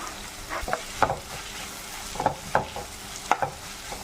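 Onions frying in a pan with salt and curry leaves for chicken kurma, with a soft constant sizzle and a few spaced spoon scrapes, heard close with no talking.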